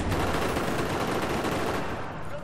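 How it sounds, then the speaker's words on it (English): Gunfire from a silenced bolt-action DMR in Battlefield 4 comes as a steady, dense stream of close shots with little pause, fading slightly near the end. "I've got a silenced iron-sided DMR, which is fun because I can use it as a shotgun at close range, but it's bolt action"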